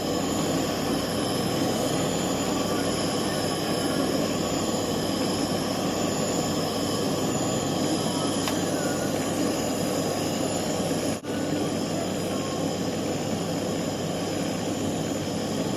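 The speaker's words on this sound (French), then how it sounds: "Donc là, il faut bien chauffer tout le bijou partout." A blowtorch roars steadily and loud, heating a turquoise signet ring all over until it glows red before soldering, with a continuous broadband hiss lasting throughout and no talk.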